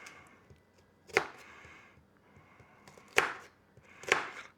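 A knife mincing food on a cutting board, three separate sharp chopping knocks spaced about a second or two apart, close and clear over a quiet background.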